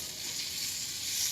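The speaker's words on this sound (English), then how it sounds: "Then just put the meat in, wait for the sizzle" Meat sizzles steadily in a hot, oiled flame-proof casserole, a close, even crackling hiss that runs unbroken throughout with no talk.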